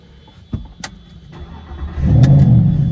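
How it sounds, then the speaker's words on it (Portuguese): A Mercedes SLS AMG's M159 engine starts with a couple of sharp clicks, then builds into a deep, steady V8 rumble up close. "e o ronco desse M159 da Mercedes, viu? Que motor!"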